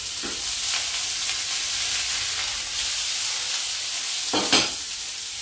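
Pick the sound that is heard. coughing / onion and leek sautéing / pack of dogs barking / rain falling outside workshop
onion and leek sautéing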